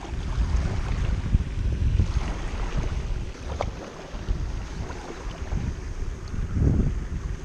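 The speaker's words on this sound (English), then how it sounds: "And I'm going against the wind." Wind gusts buffet the microphone while a kayak is paddled into the wind on open water, a rough, fluctuating low rumble with occasional splashes, swelling and easing over several seconds.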